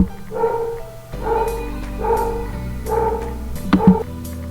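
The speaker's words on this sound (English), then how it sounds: "waited for the dog to be done with the barking" A dog barks in short bursts, four or five barks spaced unevenly, fairly close and loud, with no talking.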